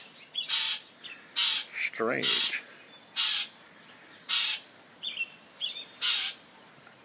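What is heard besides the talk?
aggressive mockingbird calling loudly near the house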